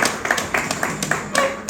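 Scattered, uneven hand clapping from an audience at a Black Stars World Cup match-day booklet launch in Ghana, a few moderately close claps coming in loose bursts rather than a full ovation.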